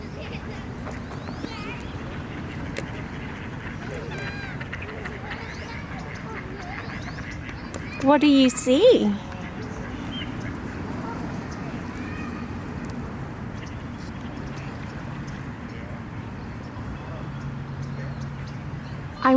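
Ducks and geese quack and honk at a park, a busy scattered chorus with one louder burst of calls near the middle, while a person speaks briefly.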